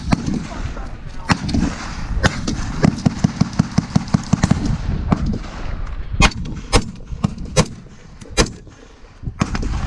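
AR-15 rifle with a BCM 16-inch upper firing at an outdoor range, a run of sharp, loud shots in quick succession followed by spaced single reports, with people talking in between.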